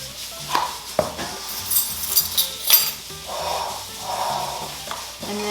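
A utensil beats a mixture in a bowl with scraping, clinking strokes and a couple of sharper knocks against the side, close and moderately loud, with no talking.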